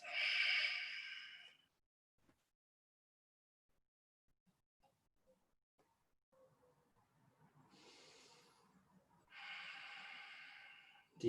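Slow, steady yoga breaths during a held pose, drawn-out airy inhales and exhales sounding close and fairly loud, separated by a long quiet pause, with a softer breath in between.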